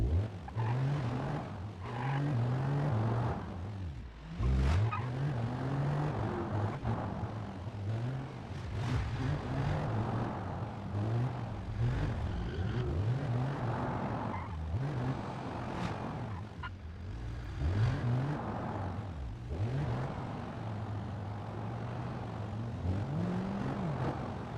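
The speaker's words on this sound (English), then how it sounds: "I tried to do a burnout, but it was not successful" A car engine in BeamNG.Drive revs and strains through a long burnout attempt, the pitch repeatedly rising and dropping in uneven surges with a droning, buzzy tone and no talk.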